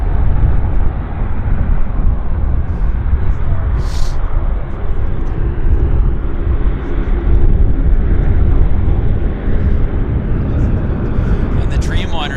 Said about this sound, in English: Saab 340's taxiing in